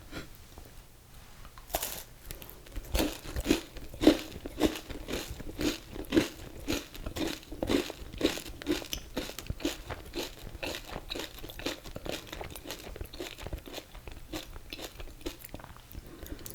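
Someone bites and chews a Whatchamacallit candy bar close up, with loud, steady crunching and crackling bites repeating throughout, no talking.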